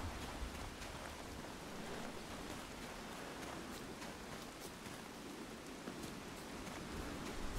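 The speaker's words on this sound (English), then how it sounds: "Looks like rain." Steady rain in the open world of The Witcher 3: Wild Hunt, a soft, even hiss of falling drops that holds constant throughout with no talk over it.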